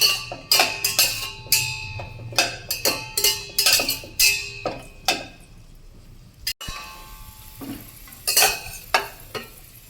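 Cashews and raisins fry in a pan for a sweet pineapple boorelu, with a soft sizzle under a steady run of close spoon scrapes and metallic clinks as they are stirred.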